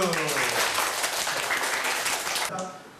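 Audience applause after a student's reading in a Korean classroom, a dense burst of clapping that holds steady for a couple of seconds and then tapers off abruptly near the end.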